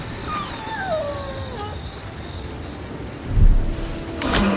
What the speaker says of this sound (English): The wind was tearing tiles from the rooftops, and thunder roared across the sky.